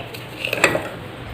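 A tablespoon stirs isabgol husk into warm milk, giving a single brief metallic clink and scrape against the vessel, close by over faint background hiss.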